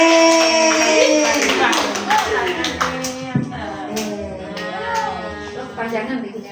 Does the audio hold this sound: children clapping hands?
yes